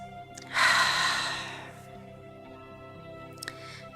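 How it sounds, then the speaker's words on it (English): Deep breath during a yoga session for joint mobility, one long forceful exhale near and fairly loud, tailing off, followed by a quieter brief breath near the end over faint background music. "We'll take a few deep breaths in and out."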